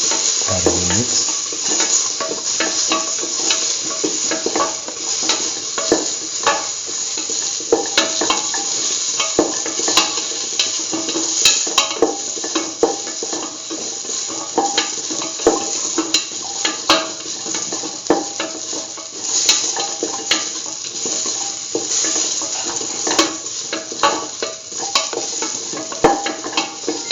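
Potato pieces being stirred and fried in a pan, a continuous sizzle with frequent scraping and clinks of the spoon against the pan, close up.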